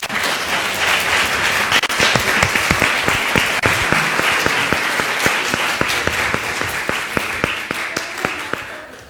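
After a keynote lecture on Indigenous law, an audience gives loud, sustained applause, a dense wash of clapping with sharp individual claps standing out throughout.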